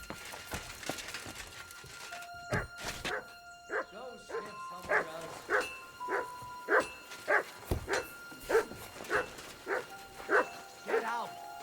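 A dog in Kingdom Come Deliverance II barks in a long run of sharp, regular yaps near the listener after some quieter background talk and noise at the start.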